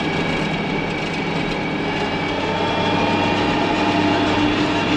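An International 3788 2+2 tractor drives along a narrow road on farm property, its engine a steady, loud, low drone heard from inside the cab with no break.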